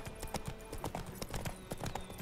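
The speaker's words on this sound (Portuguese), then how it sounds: "Andando de cavalo também, a gente percebe o pocotó no controle." Horse hooves clip-clop steadily while riding in The Witcher 3, a quick regular rhythm of hoof strikes, close and distinct with no voices over it.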